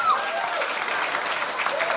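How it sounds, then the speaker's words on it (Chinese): Wedding guests applaud the bride at a reception, a short burst of even, steady clapping from a roomful of people. "那我们给新娘子一个热烈的掌声好不好？"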